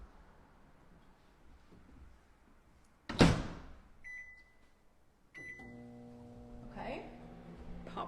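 A microwave oven door thuds shut, a couple of short beeps sound, then the oven starts a steady, low electric hum that continues to the end, heating a bag of microwave popcorn.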